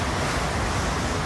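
During Hurricane Irma at Key Colony Beach, storm wind roars as a dense, unbroken rush over surging water, loud and close through the whole stretch, with no voices.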